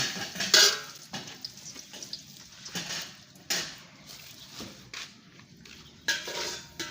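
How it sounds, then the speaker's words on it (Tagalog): Garlic sautéing in a pan for chicken tinola, with a soft sizzle under repeated scrapes and clinks of a utensil against the pan, loudest near the start and around the middle. "Magigisa na siya ng bawang."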